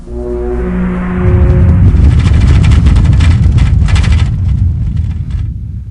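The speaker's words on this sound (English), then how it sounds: "Horn in a strong wind." A horn blowing in a strong wind in the video game Zork Nemesis: a sustained tonal blast fading into a loud, steady rushing roar of gusting wind that fills the space and trails off at the end, with nobody speaking.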